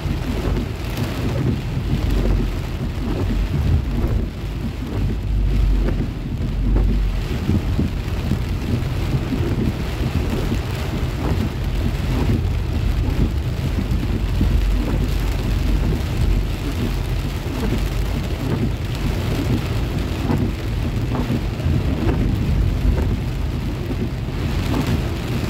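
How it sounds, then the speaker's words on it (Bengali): Heavy rain pours steadily in Mecca during a record downpour, with thunder rumbling low through a dense, constant roar of falling water, loud and close throughout. "এইরকম বৃষ্টি"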